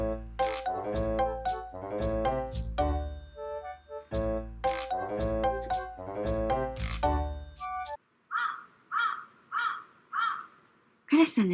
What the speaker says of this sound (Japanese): カラスさん泣いてる。